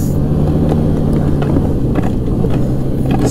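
A 2016 Arctic Cat Pantera 3000 snowmobile with a 700cc engine runs at high speed, its steady engine drone loud and close throughout with no voices.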